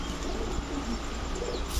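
Pigeons cooing among a flock of male high-flyer pigeons, soft calls set in a dense, steady wash of background noise, with no talking.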